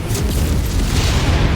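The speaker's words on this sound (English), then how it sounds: "Incoming missile." An incoming missile in a combat video game detonates as a loud, close, rumbling boom that fills the low end and rolls on for over a second without any break.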